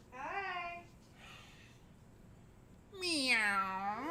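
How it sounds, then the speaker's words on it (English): A cat gives two clear meows, one short and one longer and louder, separated by a quiet pause with faint background murmur. "Cute kitty kitty said hi"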